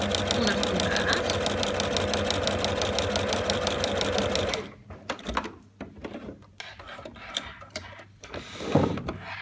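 A sewing machine runs fast, stitching fabric with a dense rapid mechanical whir for several seconds, then stops, leaving quiet room noise and light handling sounds.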